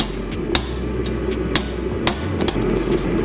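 Hammering a falchion pommel and peen block into place, with four or five sharp metallic taps spaced irregularly over a low steady background hum.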